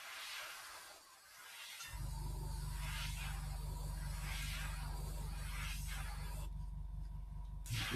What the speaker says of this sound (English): So again, we're going to start from one side, and we're just going to spray this on.